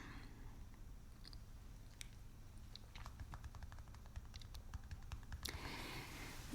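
Crunchy bites and chewing on gluten-free, lactose-free toast spread with peanut butter, a run of sharp close-up crackles and clicks over a quiet low background hum, with no talking.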